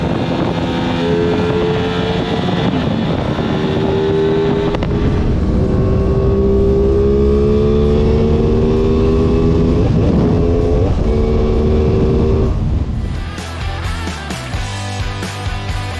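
A sport motorcycle in race mode roars close by on a race track, its pitch climbing repeatedly as it revs up through gears, with wind buffeting the microphone before it drops away.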